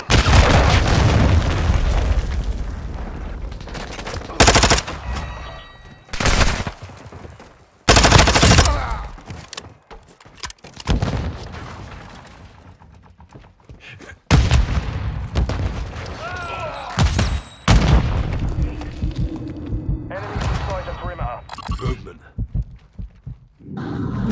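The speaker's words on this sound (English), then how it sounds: "Hostiles launched a cruise missile" Cruise missile strike in Call of Duty: Modern Warfare II, with several loud booming explosions and bursts of gunfire spread across a chaotic battle soundscape, broken by brief lulls and game voice callouts.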